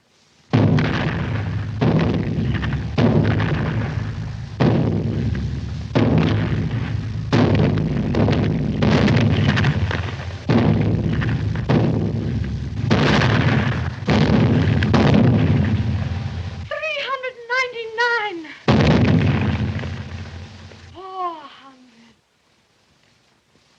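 Cannon fire booms repeatedly in a rapid, loud series of heavy blasts, followed by a pause and a couple of rising whistling sounds.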